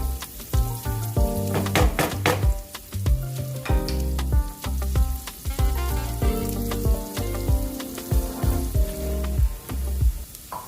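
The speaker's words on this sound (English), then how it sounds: "Add diced red onions and saute for about 5 to 6 minutes until they start to caramelize and turn golden brown" Diced red onions sauté in butter for green bean almondine, with a steady sizzle running under prominent tonal music and occasional sharp clinks.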